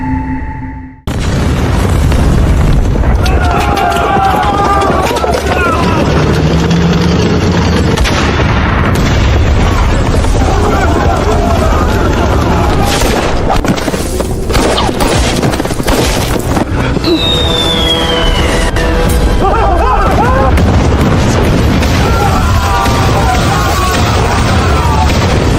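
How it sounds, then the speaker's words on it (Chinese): Hand grenades and gunfire explode through a loud battle scene in a period war drama. Heavy booms and bursts are layered with crackling shots and debris, and raised voices shout over the continuous din. "继续扔，不要停，把这些手雷全部扔干净为止。"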